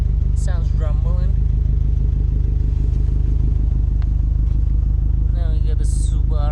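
A 2011 Subaru Impreza WRX hatchback's quad-tip exhaust gives a steady, low engine rumble that pulses evenly throughout, close by, with a voice speaking briefly over it near the start and end.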